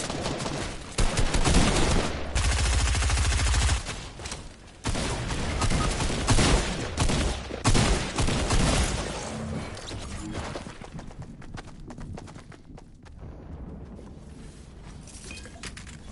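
Dense automatic gunfire from the Fortnite video game, loud and continuous bursts with overlapping shots and crashes, thinning out toward the end.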